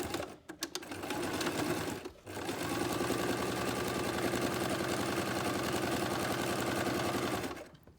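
A sewing machine stitches a backstitch on fabric while a needle case is sewn, running in a fast, steady mechanical whir that stops briefly twice before resuming, close and alone.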